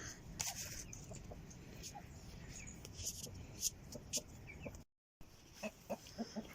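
Hens cluck in short, scattered bursts over a steady background hiss in a hayloft on a snowy, cold village day, with a brief dropout near the end.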